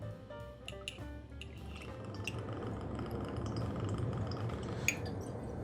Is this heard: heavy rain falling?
no